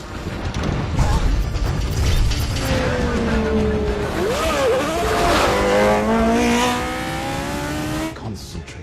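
James Hunt's McLaren M23 Formula One race car roars past at racing speed, its engine pitch sliding and dipping as it brakes and twitches, with tyres scrabbling under a continuous loud, close engine note.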